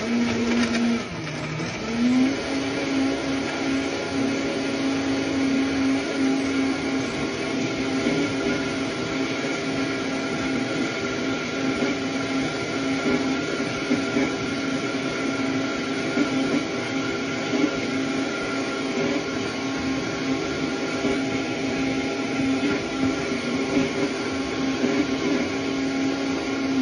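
A countertop blender runs while making keto gelatin pudding, giving a steady, loud motor whine that dips briefly in pitch at the start and then holds evenly throughout.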